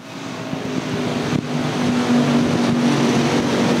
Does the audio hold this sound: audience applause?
no